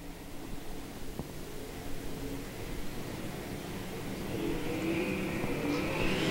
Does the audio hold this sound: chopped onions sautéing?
no